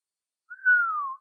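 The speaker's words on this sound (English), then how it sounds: "The stranger whistled." A man whistles a single short note, clear and pure, held for under a second and gliding gently downward, alone against silence.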